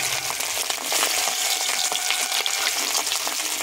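Small chela fish fry in hot oil with a dense, steady, loud crackling sizzle that runs unbroken throughout, with no voices.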